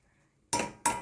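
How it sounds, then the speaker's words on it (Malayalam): Spatula working through spinach thoran in a pan coated with coconut oil, giving two short, close metallic scrapes and clanks against the pan after a near-silent start, with no talking. "വെളിച്ചെണ്ണ ഒഴിച്ച് കൊടുത്ത് എല്ലായിടവും ഇളക്കി"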